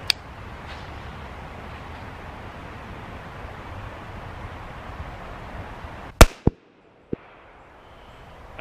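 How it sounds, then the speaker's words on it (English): A CMMG Banshee 40 S&W firearm being shot at a range, with one sharp, loud crack followed by a smaller report and a faint later pop over steady background hiss. "Now let's take one more shot on that right silhouette there."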